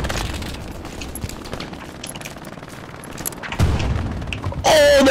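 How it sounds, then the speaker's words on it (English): Machine gun fire in a multiplayer war video game, distant bursts rattling under ambient battlefield noise, ending with a louder close blast. "I got MG fire to the north."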